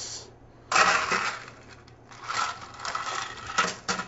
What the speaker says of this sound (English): And then I'll add the ice.